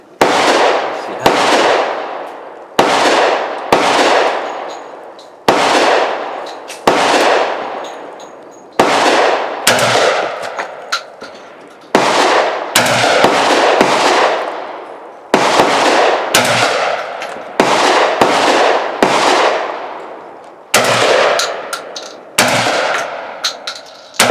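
A Tokarev TT12 semi-automatic 12 gauge shotgun fires repeatedly outdoors, sharp loud blasts with echoing decay, spaced irregularly a second or two apart through the whole stretch with no talk.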